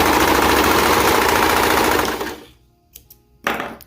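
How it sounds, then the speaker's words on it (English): Serger overlocking the side seams of a sewing-pattern romper, a loud steady mechanical whir running for about two seconds before stopping, then short bursts as it restarts. "So I'm going to serge down the edge here."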